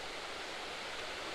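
Waterfall pouring over soft limestone rock where two rivers join, a steady dense rushing roar at moderate distance, unbroken and alone.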